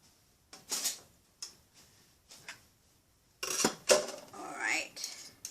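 A table knife clinks and scrapes against a dish as mayonnaise is spread on a low-carb hamburger bun. Several short, separate metallic taps come first, then a louder cluster of scraping clinks, all close and quiet, with no talking.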